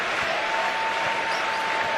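Basketball arena crowd at an NCAA men's game between Wagner and Missouri applauding a play, a dense, loud, steady wash of clapping and cheering that fills the whole stretch with a faint sustained tone running through it.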